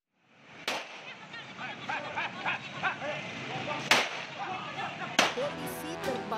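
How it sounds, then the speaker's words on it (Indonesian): Police fire warning shots into the air in Banten, Indonesia, while arresting a rampaging young man who carried a sharp weapon. Three sharp, loud cracks ring out several seconds apart over a busy background of crowd noise and voices. "Polisi terpaksa melepaskan tembakan peringatan ke udara"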